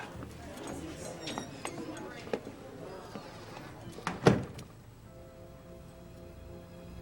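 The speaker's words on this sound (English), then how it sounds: "I'll close the door." An interior door swings shut with a sharp clunk and latch near the middle, amid rustling movement and background voices, then a quieter room tone follows.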